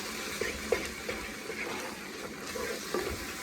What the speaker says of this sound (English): I'm going to add a little bit of water to rinse this can out with.